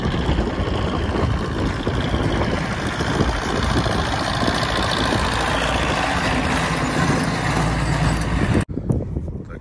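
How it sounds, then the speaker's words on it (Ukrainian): A tractor working a field with discs, a roller and a seeder, its engine giving a steady, loud rumble that cuts off near the end, followed by a quieter outdoor background. "ось трактор дискує, трактор каткує"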